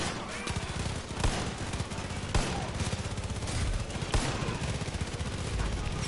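Rapid gunfire from the video game Far Cry 5 rattles out in dense automatic bursts, loud and close. Several sharper single shots punctuate the steady stream, and no one speaks over it.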